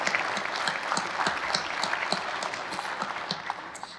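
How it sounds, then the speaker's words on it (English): A room full of people applauding at a chamber of commerce celebration, dense sustained clapping with individual claps popping out, fairly distant and even throughout. "Let's give them all another round of applause."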